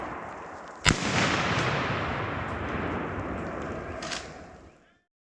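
A single sharp rifle shot at a wild boar during a driven hunt in the woods, followed by a long rolling echo and a second fainter crack near the end, with no talk.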